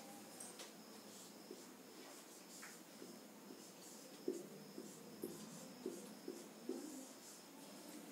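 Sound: writing numbers

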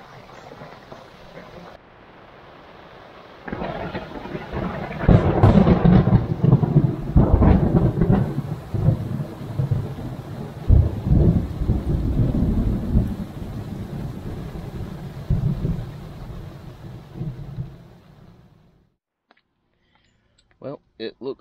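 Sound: thunderstorm with thunder and rain at a campsite

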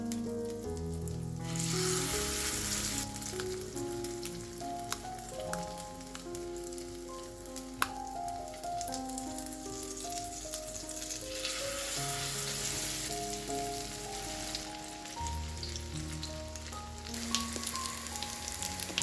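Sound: buckwheat patties frying in pan

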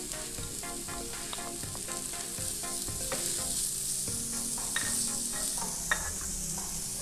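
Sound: garlic, pepper and onion sizzling in oil in a pan

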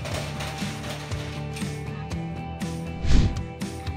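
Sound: ATM room shutter closing

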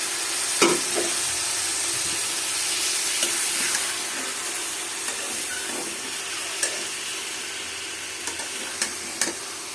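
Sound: sliced radish and potato frying in a pan

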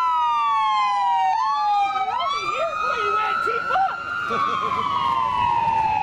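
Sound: ambulance siren

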